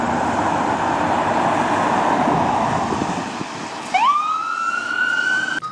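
A toy ambulance siren wails, rising and then holding, after about four seconds of steady background noise.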